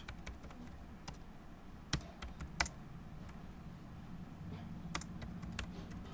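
Someone types on a computer keyboard, with quiet, irregular key taps and a few sharper clicks spread across a low room hum. No one speaks.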